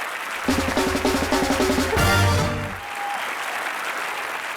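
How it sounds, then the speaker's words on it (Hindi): Studio audience at a comedy talk show breaking into loud applause, a thick burst of clapping that swells over a brief musical sting and then settles into a steadier ovation. "सबसे पहले जूही जी के लिए जोरदार तालियां।"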